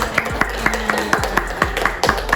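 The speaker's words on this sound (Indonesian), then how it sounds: "Tepuk tangan dulu dong." An audience claps along at a casual Indonesian chat and sharing session, roughly a dozen evenly spaced sharp claps in steady rhythm, fairly loud and close, with no speech over them.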